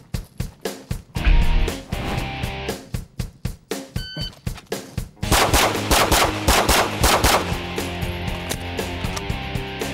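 A 9mm pistol fires eight rapid shots in about three seconds, each a loud, sharp crack in quick succession, followed by ringing and a busy burst of further noise.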